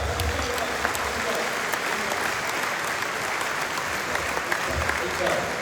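Sustained crowd applause at a State Life Insurance corporate gathering in honour of zone heads and the regional chief, dense and steady throughout, with a murmur of voices mixed in.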